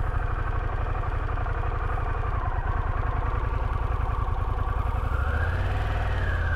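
A motorcycle engine idles steadily at a rally, close by, with an even low rumble and a faint rise in pitch toward the end. No one speaks.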